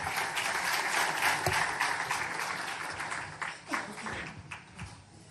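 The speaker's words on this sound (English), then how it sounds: "Can we have a huge round of applause" Audience at an Invest in Madhya Pradesh business forum in Madrid, Spain, applauding as the Chief Minister is invited to the stage, a sustained wash of many hands clapping that fades unevenly near the end.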